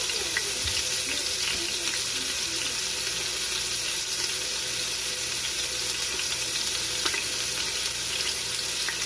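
Pork chops browning two at a time in a crowded Instant Pot, giving a steady, loud, even sizzle that runs unbroken throughout, with a faint scrape or two near the start.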